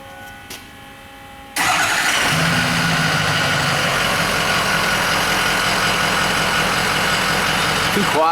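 A stock 2004 Ford 6.0 Powerstroke diesel truck engine cranks and fires up abruptly, then settles into a loud, steady rumbling idle that continues to the end.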